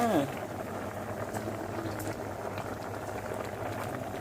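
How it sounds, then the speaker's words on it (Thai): A pot of fish curry with pickled bamboo shoots boils steadily nearby, a dense, even bubbling and simmering that runs throughout with no break. "ปิดฝาไว้ก่อน เดือดได้ที่แล้วค่ะพี่น้อง"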